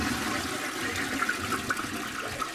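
A toilet flushes with a steady, close rush of water draining out of the bowl, continuous and fairly loud with no talking over it.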